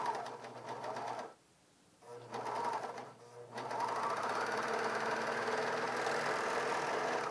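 A Bernina 700D serger stitches around a fabric corner with a fast, even mechanical whirring that stops briefly twice, then runs on steadily at close range.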